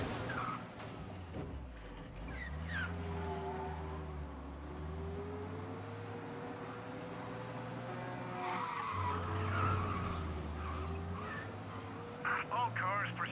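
Car tires skidding during a police chase in the video game Mafia, a prolonged screech over a droning engine with voices talking throughout.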